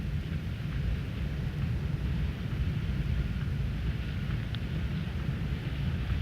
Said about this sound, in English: Man, look at that rain coming down.